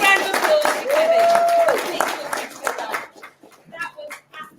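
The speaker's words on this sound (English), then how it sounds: "Big round of applause for Kevin." Audience at a Chicago presentation breaks into applause, a burst of clapping hands in the first seconds that fades out, with voices and a whistle-like tone mixed in, followed by scattered talk.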